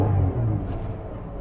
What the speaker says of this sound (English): I'm in park. Y'all hear it whining. I'm stepping on the gas.